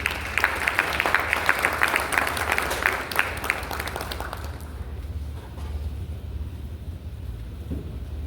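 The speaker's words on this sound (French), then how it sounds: "Il s'amène sous vos applaudissements." An audience at a certificate ceremony for children held by UNAIDS and UNHCR in Haiti applauds a speaker with dense, steady clapping that fades away after about four seconds, leaving quiet room noise.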